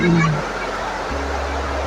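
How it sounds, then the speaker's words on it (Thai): Sai Yok Noi waterfall in Kanchanaburi, Thailand, water sliding down over rock: a steady, close rushing roar, with a voice briefly audible at the start. "น้ำตกสไลด์มาจากข้างบนนะครับ"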